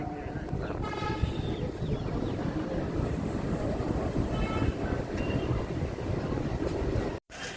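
A local train pulls into Krishnanagar City Junction station with a steady close rumble of wheels on rails and brief horn-like tones, ending in an abrupt cut near the close.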